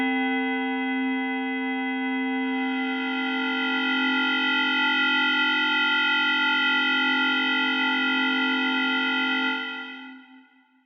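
Sugar Bytes' Aparillo dual-operator FM synth sustains a bright, buzzy harmonic drone as a second operator is blended in, holding steady and loud for about ten seconds before fading out.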